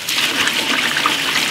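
Cabbage is rinsed under running tap water in a kitchen sink, a loud, steady hissing rush of water that runs without a break for a moment, with no voices.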